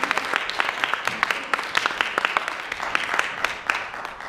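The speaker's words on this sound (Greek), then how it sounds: "Ας δώσουμε ένα χειροκρότημα στον Κύριο." Church congregation applauding during a worship service, a steady patter of many hands clapping at moderate distance with faint voices underneath.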